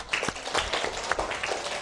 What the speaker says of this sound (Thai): ปรบมือให้คนที่ตอบเสียงนะเรา